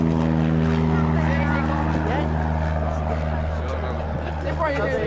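Small propeller airplane taking off at a youth aviation event, a steady droning engine tone with strong low harmonics running loud and close throughout while people talk over it.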